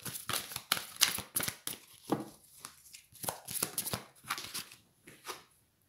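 Oracle cards shuffle and slap down for a reading in quick, close, crisp bursts of riffling and flicking, with short pauses between handfuls, no talking.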